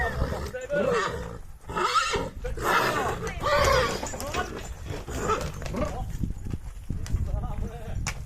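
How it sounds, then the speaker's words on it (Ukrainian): A draft stallion being let out whinnies and snorts amid a busy outdoor scene, with people talking over it and a dog barking nearby. "чоловік випускає ще жеребця"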